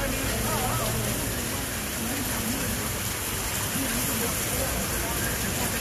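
Steady rain falling outside a shop front in Thailand, a constant broadband hiss throughout, with faint speech murmuring underneath.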